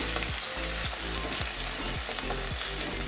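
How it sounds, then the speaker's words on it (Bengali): Ginger-garlic paste frying with onions in a pan for a Bengali green bean and potato curry, a loud close sizzle broken by regular scraping stirs about every half second. "এটা হালকা ভেজে নেবো কাঁচা গন্ধ যাওয়া পর্যন্ত"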